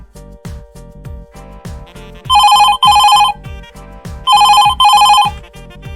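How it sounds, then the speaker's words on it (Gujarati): Telephone ringing with an incoming call in a Gujarati comedy skit: two pairs of loud electronic rings repeating over a steady rhythmic music beat in the background. "મારા વાલીનો ફોન આવ્યો."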